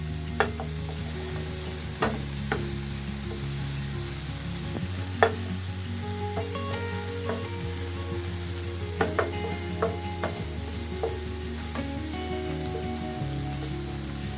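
Ham frying in a pan gives a steady, close sizzle, with scattered pops and stirring clinks throughout and no talking.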